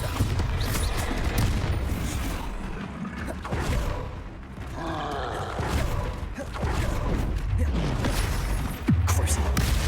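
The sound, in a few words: Bombarda spell explosions in video game Hogwarts Legacy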